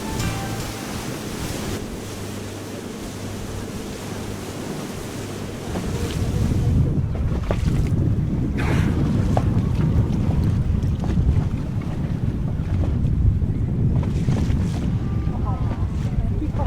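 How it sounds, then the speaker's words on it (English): Blustery wind at sea over the Moray Firth, buffeting the microphone with steady rushing noise and waves, growing louder and rougher about six seconds in and staying strong to the end. "it's turning into quite a blustery day"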